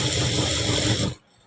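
A sewing machine runs steadily while stitching the lining of a blouse, a close continuous mechanical whir that stops abruptly near the end.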